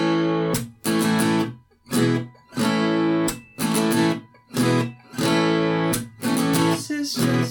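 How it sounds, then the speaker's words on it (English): An acoustic-style guitar strumming pattern for a song repeats steady chord strums in even groups with brief gaps, played alone at moderate volume. "The strumming that he ends up going to sounds like this."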